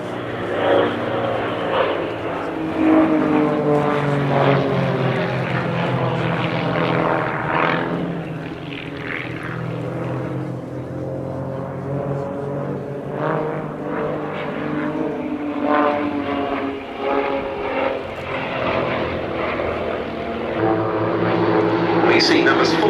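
Six Vans RV-8 propeller aircraft flying a formation display at the Duxford Summer Airshow, their engines droning loud and steady with rising and falling pitch as they pass, while a commentator talks over the sound.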